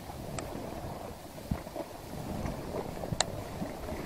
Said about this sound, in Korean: 바람이 너무 온다, 바람.